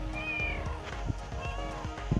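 A cat meows close by on a porch, a couple of short calls with small thumps and movement noises between them.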